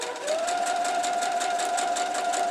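A sewing machine stitches fabric for a quilt block in a continuous, rapid pulsing run with a steady motor hum, close and moderately loud, with no speech.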